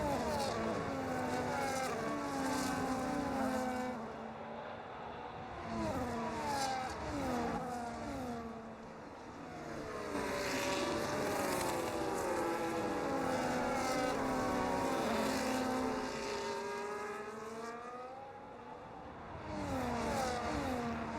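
Race car engines in a sim racing game at the Austrian Grand Prix, with several cars revving and shifting in rising and falling sweeps that pass one another, loud and continuous, with no speech over them.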